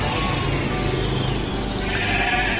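Sheep bleating among a busy outdoor livestock market crowd in Maja, Majalengka, with steady dense background noise and a couple of brief bleats standing out.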